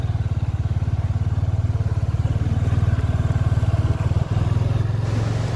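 A motorcycle riding along on the way to a student freshers' meet in Guwahati, its engine a steady, loud, close putter with rapid even pulses and a brief dip near the end, no voices.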